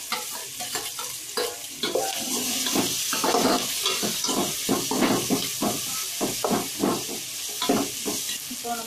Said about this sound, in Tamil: வெங்காயம் கருவேப்பில பத்தமல்லி வெங்காயம் வதக்கட்டும்.